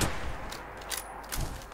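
A few sharp gunshots crack in the Fallout 76 video game, three or four close, loud reports spaced irregularly over a second and a half.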